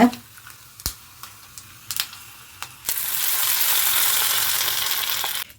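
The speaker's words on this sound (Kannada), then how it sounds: "ಒಗ್ಗರಣೆ ಮಾಡಿ ಚಟಪಟ ಚಟಪಟ ಅಂತಿದೆ" Hot tempering poured into beetroot chutney: a few sharp clinks and pops, then a sudden loud sustained sizzle that holds steady, close up.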